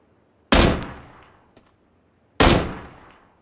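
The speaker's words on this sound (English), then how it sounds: "You're shooting at someone else." Two loud gunshots from the Battlegrounds video game, each a sharp crack with a decaying tail, roughly two seconds apart, with a faint click between them and no talk.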